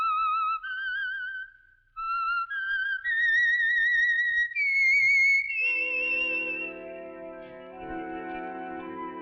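The theme of The Whistler radio mystery show, a lone whistled melody of rising and falling held notes, loud and close, that gives way partway through to a sustained orchestral chord.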